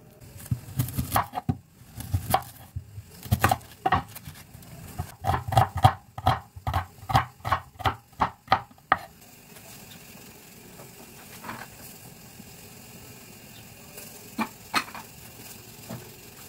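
Knife chopping onion on a board, a run of quick, sharp, evenly spaced taps up close that speeds into a rapid rhythm, then gives way to quieter background sounds with a few scattered knocks.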